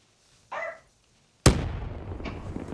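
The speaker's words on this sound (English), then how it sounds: "Threw a grenade." A grenade explodes in a competitive first-person video game: after a brief short tone, a single sharp, loud blast rings out with a rumbling tail that fades over the next second.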